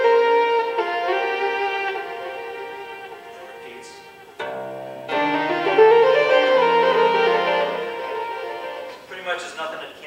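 A Chapman Stick played through a MIDI synthesizer gives sustained, organ-like tones with layered harmonics and a lower bass part entering midway, close and clear, with a short break around the middle.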